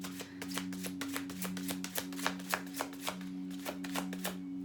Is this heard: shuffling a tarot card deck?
yes